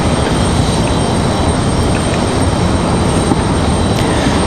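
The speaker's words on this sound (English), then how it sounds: "Now WestJet is 737-8 today." WestJet Boeing 737-8 jet at Raleigh-Durham International, producing a loud, constant engine roar with a thin high whine running steadily through, close and uninterrupted, with no talk.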